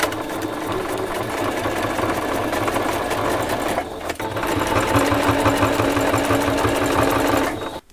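Sewing machine running steadily to stitch a double topstitched seam on a skirt, a loud continuous mechanical whir with a rapid regular needle rhythm, briefly slowing near the middle before resuming and stopping at the end.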